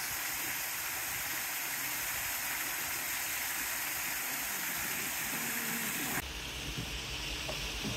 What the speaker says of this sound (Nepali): यही रहेछ सबभन्दा दामी है यो झर्नाको पानी